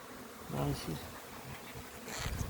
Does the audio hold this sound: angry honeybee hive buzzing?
yes